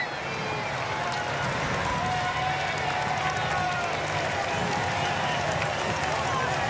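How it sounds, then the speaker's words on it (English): Roadside crowd in Monaco cheering and clapping steadily as a rider sets off on a Tour de France individual time trial, a dense continuous roar with a commentator talking over it. "Miller and the crowd cheering him away"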